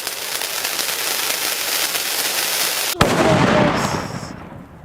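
Firecrackers go off in a Diwali cracker video game: a loud, dense crackling barrage, then a sharp bang followed by more crackle that fades away.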